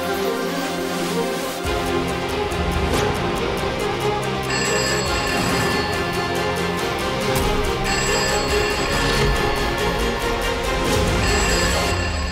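A telephone rings insistently with a continuous jangling bell tone, loud and close, with no talking.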